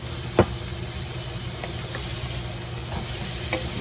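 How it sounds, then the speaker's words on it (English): Stir fry sizzles in a hot pan on a weeknight dinner stove, a steady close hiss of frying with a few sharp utensil knocks against the pan. "I mean, this is a stir fry."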